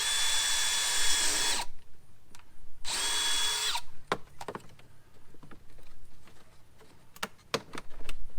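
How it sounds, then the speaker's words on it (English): A power drill whines in two bursts as it bores out a fastener on a Jeep Wrangler fender, then sharp clicks and clattering metal knocks follow in the quiet after. "I'm going to drill this one out too."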